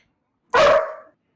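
A dog lets out one short, loud bark close by, a single sharp burst with a brief tail and no talk around it.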